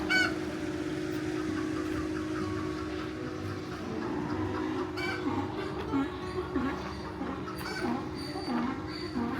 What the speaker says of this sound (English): There's the chickens.